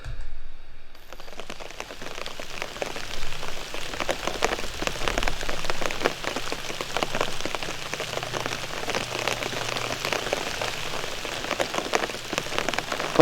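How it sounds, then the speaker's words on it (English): Steady rain falls on a tent late at night, a dense, continuous patter of drops hitting the fabric, close and even in loudness throughout with no voices. "It's been raining for a few hours now."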